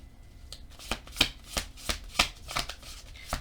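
Tarot cards being shuffled by hand, a run of crisp riffling bursts that come in quick irregular waves, close and clear with no talking.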